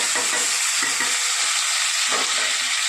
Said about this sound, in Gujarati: ડુંગળી, ટામેટાં અને લસણ એટલે એને સરસ સોતે કરી દઈએ.